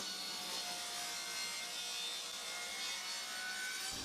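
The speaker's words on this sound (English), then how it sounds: "And now cutting the miter on the top." A miter is cut in hard jarrah timber on the top of a wooden tea box, giving a continuous, close, rasping saw sound throughout with no speech.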